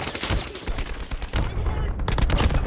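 Rapid bursts of gunfire in COD Mobile, a shooter video game, loud and close, with crackling volleys rattling in quick succession and a short lull midway before firing resumes.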